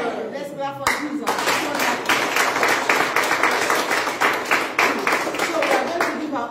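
A church congregation at a New Year crossover service claps together in a dense, steady rhythm that fills the room, with voices calling out over the loud, continuous hand claps.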